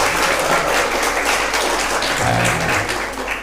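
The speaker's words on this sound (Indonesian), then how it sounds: "Tepuk tangan dong ini ya." Dense, sustained applause from an audience at a university lecture on student development, steady and close, with no voices over it.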